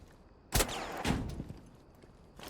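A few loud gunshots with recoil from a video game firearm: a sharp blast, a second shot about half a second later, and another near the end, alone against a quiet background.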